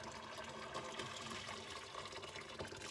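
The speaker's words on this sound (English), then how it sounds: "I'm gonna pour the rest of this water to cover up my" Water is poured over a silver sugar bowl in a container, a continuous faint gurgling splash and fill sound with no voices.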